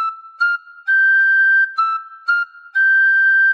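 A tin whistle plays Frère Jacques, a simple melody of clear, bright notes, short and long in a steady rhythm, close up and with no voices.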